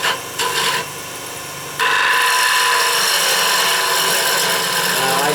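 Gouge rubbing its bevel against spinning wood on a lathe, used with a tailstock steady, producing a loud, close, continuous rasping scrape that starts in short bursts and then holds steady.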